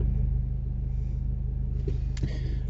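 Engine of an R56 Mini Cooper S running at idle, a low steady rumble with a faint rhythmic pulse, close by, with a couple of brief clunks near the end.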